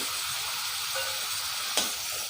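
Mushroom masala frying in a pan while being mixed, a soft steady sizzle with light scraping of the spoon and one brief louder clack near the end, close and fairly quiet, no voices.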